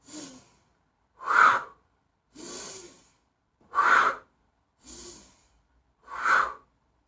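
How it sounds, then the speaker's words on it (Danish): Deep breaths during a morning yoga session come in slow alternation, softer inhales followed by louder, airy exhales, six breaths in all, close and clear with silence between and no talking. "nu laver jeg 5 store vejrindtrækninger, så jeg trækker vejret ind, pust ud, ind,"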